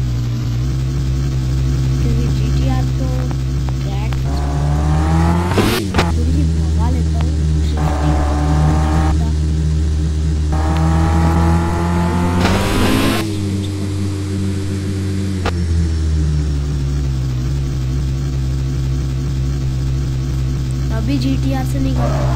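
Car engines in a video game track race, a Ferrari against a GTR, drone steadily throughout with rising and falling revs, several sharp surges, and a loud constant tone.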